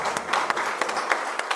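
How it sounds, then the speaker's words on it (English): A conference audience marking fifty years of ECOWAS applauds, a moderate, fairly even patter of clapping in which a few sharper individual claps stand out at irregular intervals. "Please, let's give them a round of applause."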